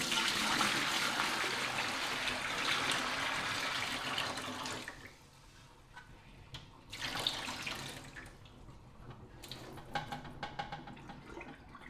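Water tipped out of a Pinter home-brewing fermenter after sanitising, first a loud steady pour, then quieter splashes and trickles that come in short bursts.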